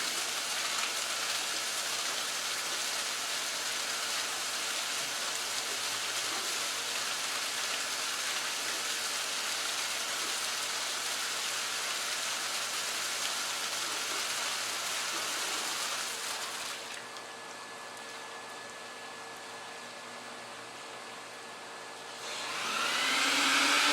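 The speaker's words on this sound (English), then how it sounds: "The PetPeePee machine, the machine that I built it" A homemade cleaning machine washes a high-quality Nain Persian rug that has dog urine odor, giving a loud, steady wet hiss and spray like heavy rain. The rush eases to a softer whoosh near the end, then swells again, with no talking.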